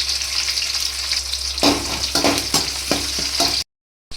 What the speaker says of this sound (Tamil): அப்புறம் 2 வெங்காயம் ஸ்லைஸ் பண்ணி வச்சுருக்கேன், அதையும் போடுறேன்.